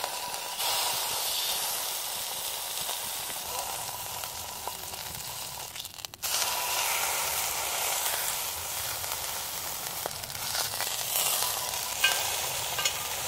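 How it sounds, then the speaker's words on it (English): Fatty meat sizzles in a Firebox cast iron pan: a steady, loud frying hiss runs almost the whole time, broken by a brief dip near the middle before resuming at full strength. "We'll start with this fatty side get some fat on the pan."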